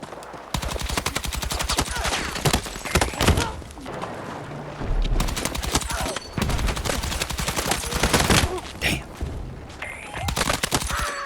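Rapid automatic gunfire in the video game Battlefield 6 sounds in dense bursts with booming impacts, loud and continuous across the clip, with short pauses between volleys.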